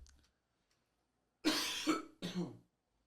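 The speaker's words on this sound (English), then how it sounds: "I'm gonna have to cough one more time." A close, sharp cough sounds twice in quick succession after a moment of near silence, followed by a shorter third cough.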